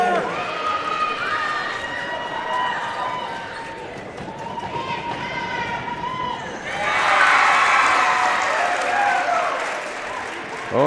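Crowd at a high school basketball tournament game, Red Bud Muskateers against Sesser-Valier Devils, roaring and applauding after successful free throws, with the cheering swelling loudly partway through over a commentator's talk and sneaker squeaks.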